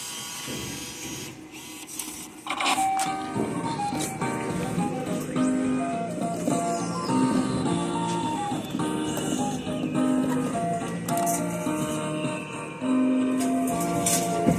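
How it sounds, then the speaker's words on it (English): An arcade claw machine called Moonlight Catcher at a bowling alley runs with a loud, steady electronic jingle of repeating tones and beeps, playing continuously and close up throughout. "We're going to play the Moonlight Catcher."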